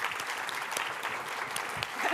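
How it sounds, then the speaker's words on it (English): An audience at a university finance lecture claps to welcome a professor to the podium. The applause is fairly soft and steady across the short stretch. "Let's give her a round of applause"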